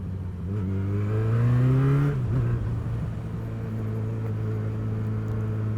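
A 2010 Yamaha XJ6 inline-four motorcycle engine revs up, climbing in pitch for about two seconds before dropping back to a steady idle hum, close and loud.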